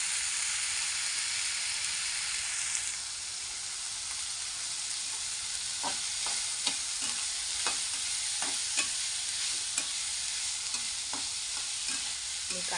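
Breakfast ingredients with turmeric being stirred in a sizzling pan, a steady frying hiss under a string of scraping spoon strokes that grow more frequent in the second half, close up with no talking.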